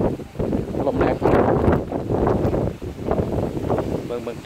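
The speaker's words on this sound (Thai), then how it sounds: "ตอนนี้ลมแรงครับ" Strong wind buffets the microphone outdoors as a storm approaches, a loud, continuous roaring gust that rises and falls throughout with no clear pauses.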